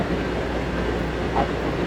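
A low, steady rumble of trains fills a railway station platform in Mecca, with no clear speech.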